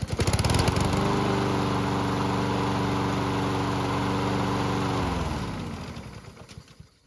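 A hot-running lawn mower engine, restarted after several minutes of operation, catches and settles into a steady, loud idle that holds evenly for several seconds before winding down near the end.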